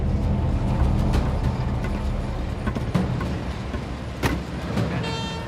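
An $18 million large mining excavator working in Kalgoorlie's Super Pit, with a loud continuous heavy engine drone and occasional clanks and knocks, steady and close, with no talk.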